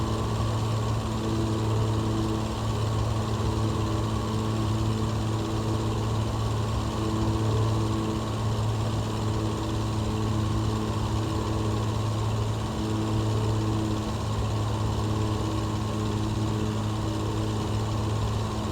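Fournier RF-6B light aircraft engine in X-Plane 11 running at reduced power, a steady low droning hum with a faint pulsing rhythm, continuous and alone without talk.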